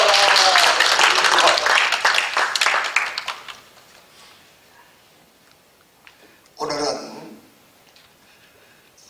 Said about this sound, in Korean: 하나님께 박수로 영광 돌립시다